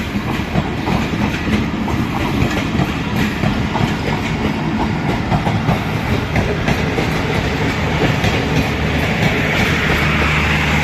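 Subak Raftar railcar running between Lahore and Rawalpindi rolls through Badami Bagh railway station, a steady loud rumble with clickety-clack of wheels over rail joints, close by and continuous without talk.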